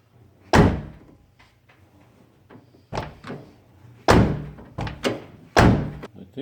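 Side doors on a car being rebuilt from the frame up, shut repeatedly in a garage: a series of solid thunks and slams, loud and close, with quieter knocks between them.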